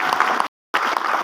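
An audience at a direct selling business event claps in a dense burst of applause, which cuts off briefly to silence and then resumes just as strongly.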